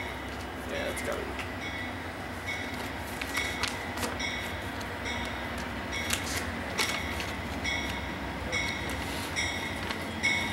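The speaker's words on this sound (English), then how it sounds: "It's got super liners and it's our train." An Amtrak Capitol Limited passenger train with Superliner cars rolls past nearby in Sandusky, Ohio, with rhythmic clicking wheels and rumbling, a few sharp clacks throughout, while people talk quietly in the background.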